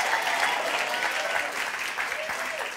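A church congregation claps loudly and steadily at a midweek service, dense applause with scattered crisp individual claps, while a voice calls out faintly beneath the noise.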